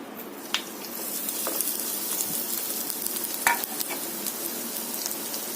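Pepper, ginger and garlic paste frying in coconut oil: a steady, close sizzle with occasional soft scrapes and taps of a spoon as it is stirred.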